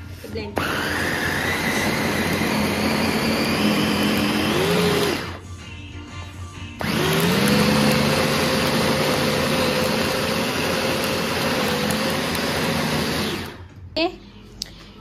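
A blender roars loudly up close as it blends chili paste, runs for several seconds, stops briefly, then whirs again for a long stretch before cutting off.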